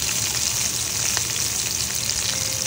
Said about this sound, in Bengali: অন্যদিকে কড়াইতে তেলে ফুলকপি, গাজর, ক্যাপসিকাম আর মটরশুঁটি হালকা ভাজা ভাজা করে নেব।